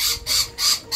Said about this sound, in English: The noisy bird.